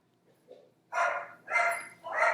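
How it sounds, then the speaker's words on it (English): Dogs bark out in a yard: three loud close barks in quick succession, each preceded by a faint softer yip, with no talking. "if you could hear my dogs, there's something interesting in the yard"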